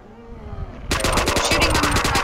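Rapid automatic gunfire aimed at zombies in a Roblox game starts abruptly and keeps up a fast, steady, loud rattle, following a brief stretch of quiet game sound.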